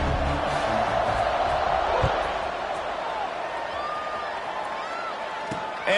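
Stadium crowd in a college football video game, a broad continuous roar building as the teams line up for a kickoff, with a commentator talking over it.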